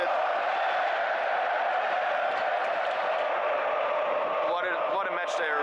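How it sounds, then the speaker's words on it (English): Spanish fans in a football stadium keep up a broad, sustained roar of crowd noise and applause during a lopsided 5-0 match against Slovakia, with a louder swell of cheering near the end. "Spanish fans now applauding every single pass that is completed"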